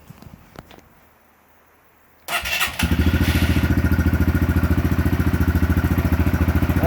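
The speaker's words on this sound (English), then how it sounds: "So we're going to let it reset and we're going to try it and see what it does" Honda CRF125F dirt bike engine cranking after a quiet pause, then catching and settling into a steady, close, loud idle with an even rapid chugging rhythm.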